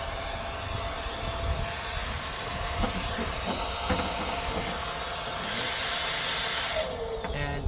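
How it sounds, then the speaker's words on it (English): An electric air pump deflates a four-season camping mattress with a continuous, fairly loud whooshing drone. The pitch shifts and strains near the end as suction labors, and no voices are heard. "It's making a sound like it's running out of suction power, like it's stuck."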